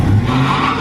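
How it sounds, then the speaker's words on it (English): Turbocharged LS-swapped Mustang hopping its wheels under hard launch, a loud, close, harsh engine roar with chattering tire noise held for under a second, no talk. "Crazy wheel hop."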